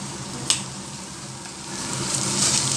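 Corn and mixed vegetables are stirred in a sizzling pan while making white sauce pasta, a steady close frying hiss with one sharp utensil clink near the start and the sizzle swelling slightly toward the end.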